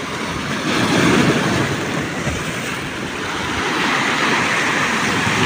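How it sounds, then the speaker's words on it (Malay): Strong waves roll in at Tanjung Rhu during a big high tide, a loud continuous surf roar with swelling surges and some wind rumble. "Memang ombak kuat. Angin kurang tapi ombak kuat geng. Ombak besar betul ombak dia."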